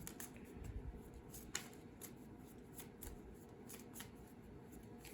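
Tarot cards shuffled by hand in a steady, dry riffling rustle with a few sharper snaps, close and moderately quiet, no talking.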